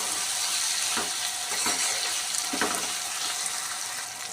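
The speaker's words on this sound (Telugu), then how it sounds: "ఇలా ఫ్రై చేసేసుకోవాలి." Spiced food frying in a pan gives a continuous close sizzle, with a few brief stirring scrapes breaking through the crackle.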